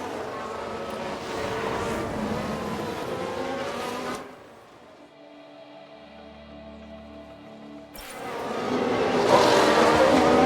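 Racing car engines in F1 Manager 2022 roar loudly with tire noise around a single-car crash, break off into a quieter tonal hum for a few seconds, then the engine noise returns.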